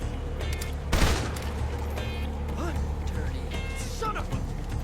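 Rifle fire from an AK in a Metal Gear Solid Delta boss fight, one sharp close shot followed by scattered fainter reports under a steady rumble of game ambience and music.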